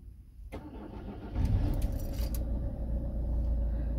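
Car engine cranking and firing up after replacement of a faulty electronic EGR valve, a brief starter burst followed by a steady, close low idle rumble.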